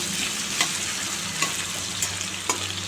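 Potatoes and paneer fry in a pan for a home-cooked curry, giving a steady, close sizzle with a few sharp clicks as the spatula stirs the pieces.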